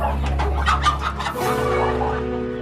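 Hens at an animal cruelty seizure cluck in a rapid run of short calls, fairly close, over a steady low hum, with no talk.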